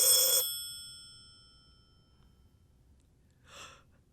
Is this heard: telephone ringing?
yes